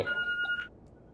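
A short electronic answering machine beep in The Walking Dead video game sounds once, then quickly fades into faint background hiss.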